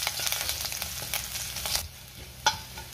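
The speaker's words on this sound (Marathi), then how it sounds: "हे साधारण आपण अर्धा मिनिट परतून घेऊया।" Green chilli, curry leaves and asafoetida sautéing in a pan, a dense close sizzle that eases after a moment, followed by a single sharp stir or clink.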